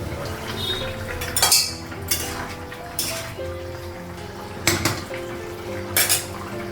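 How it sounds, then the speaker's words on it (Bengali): A pot lid is set down and lifted in a home kitchen, giving several sharp metallic clanks and clinks at irregular intervals over a low background hum, with no talking. "ঢাকা দেবো, ঢাকনাটা উঠানো"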